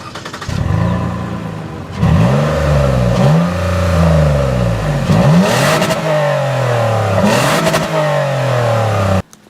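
A 2014 Toyota Highlander's V6 engine revs repeatedly while driving off road through Colorado mud, rising and falling in several sweeping surges, close and loud, with clattering from the vehicle and no talking.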